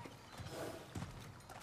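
Horse hooves clip-clopping in the video game God of War Ragnarok, a few soft, uneven thuds under a faint steady background hum.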